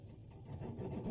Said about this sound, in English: now let's see if I can cut it with a hacksaw